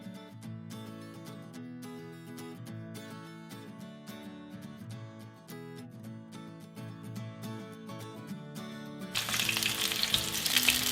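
Onions dropped into hot oil while making refried beans, a loud crackling sizzle bursting in near the end after a stretch of background music.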